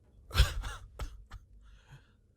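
A game character in Fallout New Vegas gives a few short, breathy coughs, one stronger burst followed by lighter ones, close and alone.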